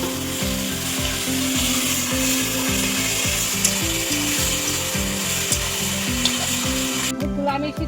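Taro (kochu) frying in a pan with cinnamon, ginger, turmeric and chilies gives a loud, constant sizzle. Fast, regular scraping strokes of stirring run over it, and the sound cuts off sharply near the end.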